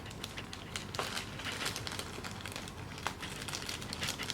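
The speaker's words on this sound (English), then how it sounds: "we gotta have the scissors and gently cut it" Close, quiet crinkling of plastic packaging around a Bandai One Piece figure as scissors snip through it in short, irregular cuts.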